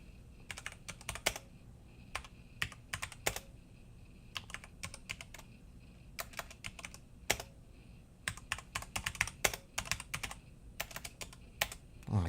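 Fingers typing on a computer keyboard, quick irregular bursts of key clicks separated by short pauses, close and clear in an otherwise quiet room, with no voices.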